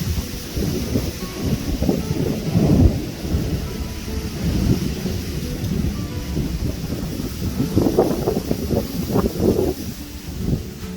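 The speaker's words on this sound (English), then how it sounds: "So it started raining here now. You may hear the thunders" Steady rain with low rumbling thunder rolling through in Himachal, plus some wind buffeting the microphone; no talking.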